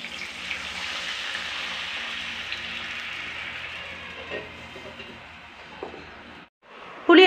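Tamarind extract poured into a hot pan for Tamil vatha kulambu, giving a steady broadband sizzling hiss throughout, close and moderately loud, with a brief dip near the end before a sharp burst of sizzle returns.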